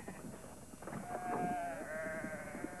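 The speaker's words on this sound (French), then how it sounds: "Comme il fallait s'y attendre, ici aussi, il y a des moutons." Sheep and lambs about four months old bleat on a farm, several wavering calls overlapping at moderate distance over a steady background hum.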